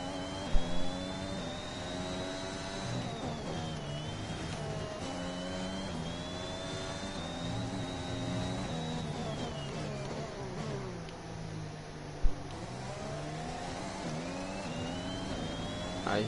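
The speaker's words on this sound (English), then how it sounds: "I hear cars" Engines whine and rev continuously, rising and falling in pitch like racing cars in a game, with a couple of sharp clicks along the way.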